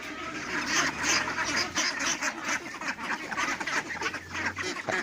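A crowd of hungry laying ducks quacks loudly and continuously, many overlapping calls close by with no pauses.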